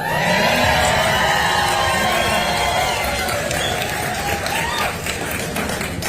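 A large rally crowd in California cheers and applauds, a dense sustained roar of clapping and shouting that holds steady for several seconds, with voices and whoops mixed through it.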